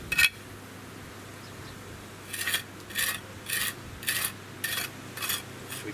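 Mortar being scraped and pressed into a paving joint with a trowel, heard as a sharp rasp followed by a steady run of six rhythmic rubbing strokes, close and fairly loud with no talking.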